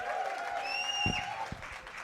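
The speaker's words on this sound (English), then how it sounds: "Angelo, let's give him a round of applause." An audience at a women's symposium applauds, a dense wash of clapping with a sustained tonal sound and a couple of low thumps over it, moderately loud throughout.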